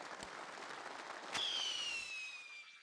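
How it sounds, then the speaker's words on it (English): A screaming firework effect in LittleBigPlanet 3 from a 4th of July level: a sharp pop, then a loud high whistle that slowly glides downward and fades over about a second. "When the firework first appears, it should make a screaming sound."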